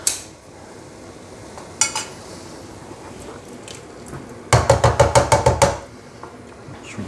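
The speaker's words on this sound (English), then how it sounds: "I'll just tip in a can of tomatoes." Canned tomatoes slide and clatter from a metal can into a pot of spinach and chickpea curry, a quick run of sharp rhythmic knocks and tapping as the can is shaken empty, after a few earlier clinks in a quiet kitchen.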